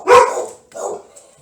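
A dog gives two barks, a loud close one followed by a softer second, with a faint trailing yip.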